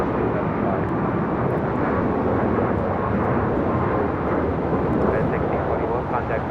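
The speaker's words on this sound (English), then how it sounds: "This is United Airlines 1621 taking off to Orlando" A United Airlines Boeing 737 Max 9 jet taking off from LAX bound for Orlando, a loud steady engine roar that fills the whole stretch without letup.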